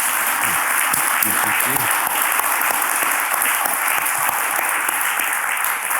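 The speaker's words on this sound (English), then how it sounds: "I think if we can give a round of applause to Ben, Eugene, and Russ" Audience applause fills a talks venue after a conversation event, a dense, steady wash of many hands clapping at close range that holds loud and even for the whole stretch with no voices over it.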